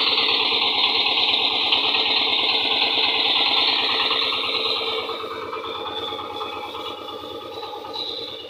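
A tractor engine idles steadily at a rural service station, a loud, continuous diesel chug with fast regular pulsing that softens slightly partway through.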